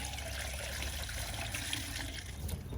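Pond water splashing and trickling steadily as pond filters are rinsed out in a container during an annual backyard pond cleanup, a continuous close wash with no talking.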